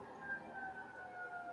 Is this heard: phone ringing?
no